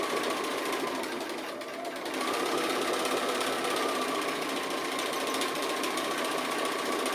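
A sewing machine stitches embroidery over applique, its needle hammering in a steady, rapid drone that dips briefly near the start and then runs on evenly and close.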